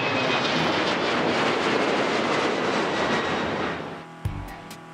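A fixed-wing airplane passes overhead with a loud, broad engine roar that holds steady, then fades and cuts off near the end.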